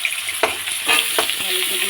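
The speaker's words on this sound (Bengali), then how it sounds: "জিরা দিয়ে আলুটা দিয়েছি, আর আলুটা একটু ভেজে নিই" Potatoes frying with cumin seeds in a pan, a steady close sizzle with a few scraping stirs breaking through.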